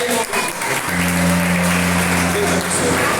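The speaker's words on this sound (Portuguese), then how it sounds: "Uma forte salva de palmas a eles aí." A church congregation claps during a doctrine service, a short burst of applause over a sustained organ or keyboard chord.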